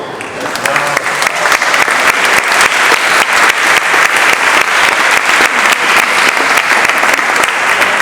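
An audience at a commemorative evening for the Chilean coup of 11 September applauds warmly, a loud, dense and steady roll of many clapping hands that holds evenly from start to finish.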